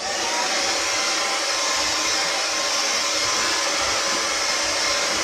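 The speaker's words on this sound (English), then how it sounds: "I am getting a little bit of smoke, but I do use a hot dryer also." A hot hair dryer blow-drying hair roars with a steady, loud, unbroken airflow hiss, close by and alone with no voices.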